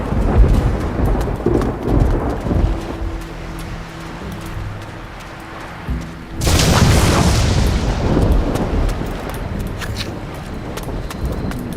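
Thunder in the video game Risen 3: Titan Lords, with a low rumble and rain-like hiss that burst into a loud, crackling thunderclap halfway through, followed by a long rolling roar beneath steady rain.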